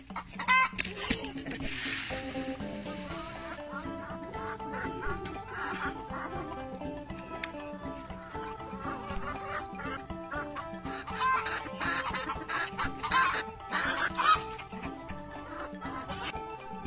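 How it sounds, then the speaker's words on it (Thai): Laying hens cluck on a Thai home garden farm, a steady run of fairly close calls with a louder squawk now and then over faint background sound. "เดี๋ยวจะพาน้องๆหนูๆไปดูแม่ไก่กำลังออกไข่กันนะคะ"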